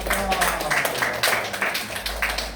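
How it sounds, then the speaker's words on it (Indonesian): Classroom group applause for a student group: steady, moderately loud clapping from a small crowd of classmates, continuing evenly throughout with a faint voice or two beneath it. "tepuk tangan untuk kelompok"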